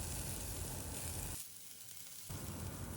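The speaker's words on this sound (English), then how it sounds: "Into this now we will add the carrot juliennes. We'll stir this once as we don't want to overcook the veggies." Carrot juliennes stirred in a hot pan for a keto zucchini noodle dish give a steady, close hiss that cuts out briefly midway, then resumes, with no talk.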